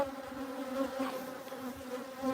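Honey bees buzz around a beehive with galvanised covers, a steady droning hum that is quiet and close, with no talking.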